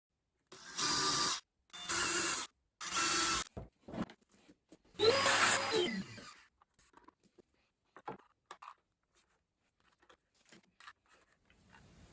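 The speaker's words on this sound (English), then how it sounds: "Did manage to strip one of the screws, but I think I was just a bit overzealous with the screwing." A power driver runs in three short even bursts and then one longer burst while screws go into a DIY sofa table. Faint handling clicks and rustles follow, close by and with no talking.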